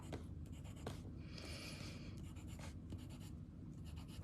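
A pencil shades across a paper drawing tile with soft, close scratchy strokes in short bursts and a longer sweep, over a quiet background.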